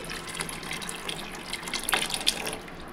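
Tamarind juice is poured into a pan of spicy bochha fish curry, making a steady liquid gush and sizzle nearby with a few louder splashes toward the end.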